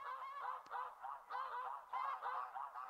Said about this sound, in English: Couple of geese gliding in.